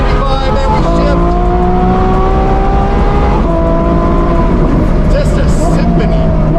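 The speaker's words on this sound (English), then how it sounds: "Those downshifts, super crisp. Listen to that." A twin-turbo Ferrari F12 fitted with an aftermarket exhaust revs hard and loud up through the range, with quick crisp shifts breaking the rising engine note twice.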